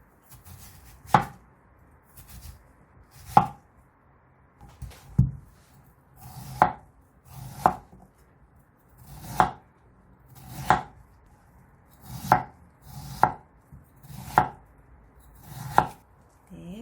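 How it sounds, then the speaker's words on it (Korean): A knife chops a pear into thin julienne strips on a cutting board for spicy squid salad, with sharp, evenly spaced strikes about every one to two seconds, close and distinct, and no talking. "배를 채 썰어줍니다."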